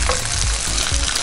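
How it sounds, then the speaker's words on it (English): Beef strips hitting a hot pan for lomo saltado after onions and garlic, a brief, loud, close sizzle with a couple of soft thumps. "Now we're gonna go in with our beef."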